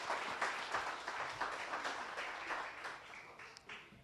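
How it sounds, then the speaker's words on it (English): An audience at the launch of a regional youth games event in Windhoek claps for a much-decorated athlete, a fairly faint, moderately dense round of applause that thins slightly toward the end. "Let's give him a round of applause"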